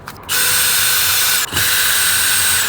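A power tool whirs close by as it backs out two 7mm bolts from the steering wheel of a Ford F-150 truck, two loud steady runs split by a brief pause.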